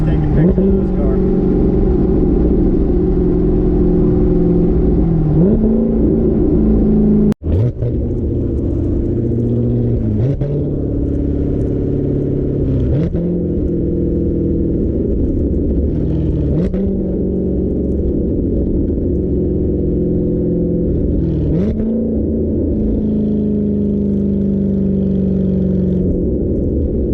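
A 2019 Corvette ZR1 fitted with an AWE Touring exhaust drives with a deep, rumbling drone that swells with repeated throttle rises and gear shifts, heard from inside the car.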